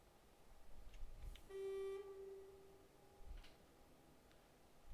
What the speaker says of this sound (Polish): Ach, te klaksony.